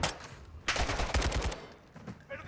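Rapid bursts of gunfire in Call of Duty: Modern Warfare II ring out loud and close, with clustered automatic shots and short gaps between volleys.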